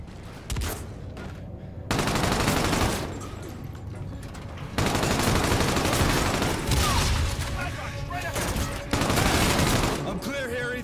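Sustained gunfire in the video game Call of Duty: Infinite Warfare, dense overlapping automatic bursts in several loud stretches separated by brief lulls, with battle noise throughout.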